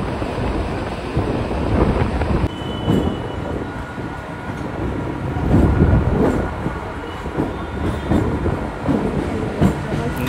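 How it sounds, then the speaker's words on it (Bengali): Local train pulling out of Baruipur Junction toward Diamond Harbour, a steady loud rumble and clatter of wheels on rail with rolling swells, carried throughout with no voices. "ছেড়ে দিল আমাদের ট্রেনটি বারুইপুর জংশন রেলওয়ে স্টেশন থেকে"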